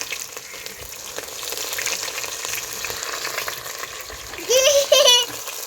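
Onions and green chillies frying in hot oil in a pan with cumin and mustard seeds, a steady close sizzle throughout, with a voice briefly heard near the end.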